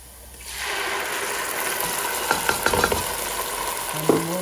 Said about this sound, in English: So I'm going to add the chopped tomatoes.